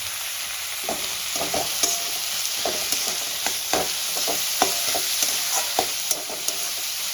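Onions for pav bhaji masala fry in a pan, a continuous loud sizzle broken by repeated scraping stirs of a spatula at an uneven rhythm, close by with no voices.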